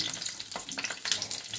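Dried red chillies and whole spices, a five-spice tempering, sizzle in hot oil for grated amla pickle, giving a steady crackling fry with small pops and light stirring, close and moderately loud, with no talking.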